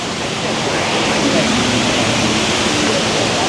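Steady, loud rush of the indoor waterfall at Singapore Changi Airport, a dense continuous roar of falling water filling the space without pause.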